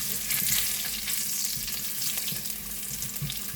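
Three whole garlic cloves fry in hot oil in a pan for a zucchini curry, a continuous close crackling sizzle with a low steady hiss underneath.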